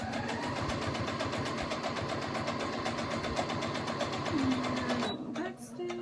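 Sewing machine stitching fabric for boys' boxers, with a close, steady rapid needle chatter that runs for about five seconds, then stops, followed by a brief higher mechanical whir.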